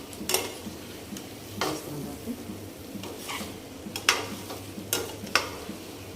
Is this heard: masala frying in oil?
yes